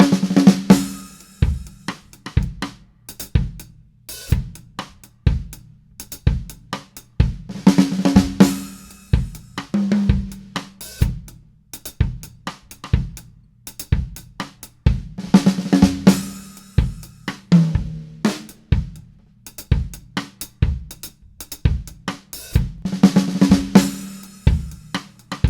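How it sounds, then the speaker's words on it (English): Drum kit playing a single drag rudiment fill within a four-bar reggae-feel phrase: steady kick and snare groove with repeated crisp drag flams and cymbal washes recurring every few seconds, close and loud, no talking. "And now what I'll do is I'll play this fill in a 4-bar phrase in a reggae feel."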